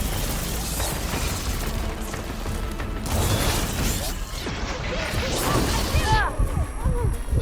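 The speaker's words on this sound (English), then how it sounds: "Sonic booms." Sonic boom attacks from a machine in Horizon Forbidden West burst out in loud, crashing blasts with mechanical clanks and whooshes amid dense game combat noise, with a voice speaking over them.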